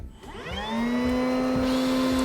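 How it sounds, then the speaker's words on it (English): A vacuum cleaner switched to blow mode spools up from quiet into a loud, steady whine that holds at full pitch, used to push air through a DIY drill testing rig, with no talk over it. "we're going to mimic that by using a vacuum on blow mode"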